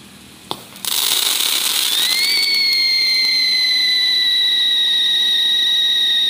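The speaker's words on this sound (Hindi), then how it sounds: "ऊपर जाकर स्काई शॉट फटेगा नार के बाद" A Diwali sky shot firecracker whistles as it climbs after a sharp ignition pop, leaving a loud, sustained rising whistle that levels off and keeps shrieking.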